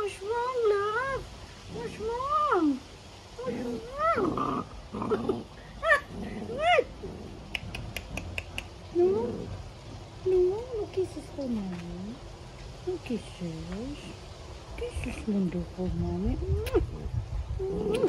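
A new miniature puppy growls and whines in a long, varied run of close vocalizations, with rising and falling yelps and rumbles mixed among occasional sharp clicks.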